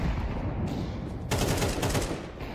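Rapid bursts of gunfire in Counter-Strike 2, with AK-47 fire on the Mirage map. The shots come as quick, close fusillades, loudest in the middle of the moment.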